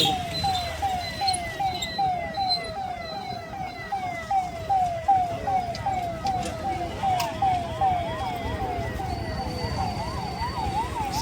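Police vehicle sirens wail in a steady repeating up-and-down pattern, rising and overlapping as more vehicles pass, over road traffic noise and a crowd murmur at a funeral gathering.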